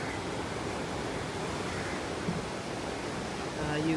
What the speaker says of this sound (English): The sea's been rather rough the last few days because of wind and